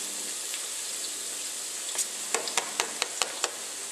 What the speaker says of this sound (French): Je la parfume avec 2 branches de thym et je mets à revenir mon ail.